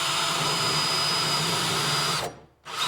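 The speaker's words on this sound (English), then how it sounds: "Once it's on the center, I'm going to drill this hole first." Power drill boring a shelf-pin hole through a jig into wood, a steady high whine held close for a couple of seconds before the motor stops, then a brief quiet and restart.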